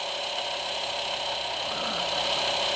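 A car engine idling right after start-up, heard from the driver's seat with the upward-opening door open; a steady, dense mechanical hum, fairly loud and even, with no talking.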